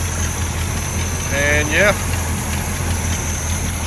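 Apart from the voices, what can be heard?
old square body truck engine idling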